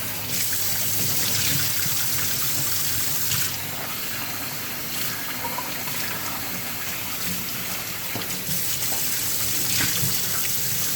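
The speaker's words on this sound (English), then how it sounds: "I'm gonna show you how I wash my rice." Running tap water pours steadily into a bowl of rice, about 1.5 pounds, being washed Jamaican style, a continuous close splash with no talking.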